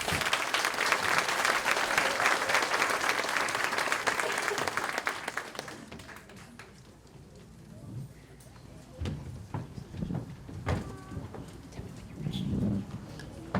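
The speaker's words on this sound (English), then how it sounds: "Let's give them all a round of applause." Audience applause at a kindergarten graduation ceremony at an elementary school, a loud burst of clapping from the crowd for about six seconds that fades out, followed by scattered room noise, shuffling and faint murmuring.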